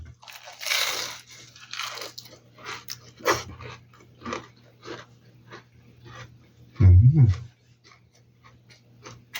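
Crispy fried spring rolls being bitten and chewed, a series of close crunchy bites and chewing crackles with a loud burst near the end, over a low background hum.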